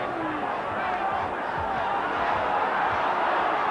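Rugby test stadium crowd, Australia versus New Zealand, a constant loud mass of voices calling out and roaring with no breaks, heard from within the stands.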